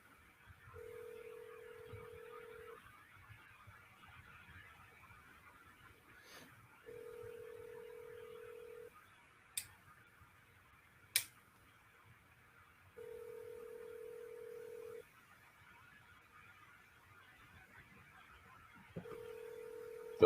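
A steady telephone tone sounds in evenly spaced two-second pulses with long gaps, a few faint clicks between, over quiet background hiss.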